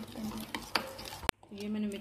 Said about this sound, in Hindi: तो मिक्स करके फिर आपको दिखाते हैं।